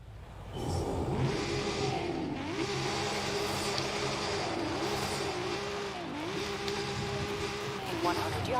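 A Lexus drift car with a 395-horsepower engine in the Forza Horizon racing game revs loudly and continuously, its pitch rising and dipping in repeated waves as the throttle is worked, with someone talking over it at times.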